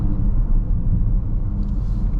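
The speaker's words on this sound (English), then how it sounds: "Car sounds good." A 2024 BMW X5 M60i under way, a heavy low engine and road rumble droning steadily from inside the cabin, loud and continuous with no voices.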